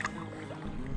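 Kayak paddling across a lake: soft water swishes and light splashes from the paddle, close and continuous over a quiet outdoor background.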